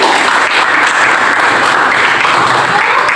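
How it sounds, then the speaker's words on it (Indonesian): A classroom of vocational students applauds a classmate at SMKN 1 Pemenang, a dense, steady burst of clapping filling the room for a few seconds with no voices over it. "Berikan aplaus untuk teman kalian."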